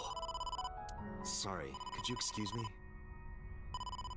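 A phone rings in the video game AI: The Somnium Files, a repeating electronic ringtone that plays steadily behind a stretch of conversational speech and pauses briefly before ringing again.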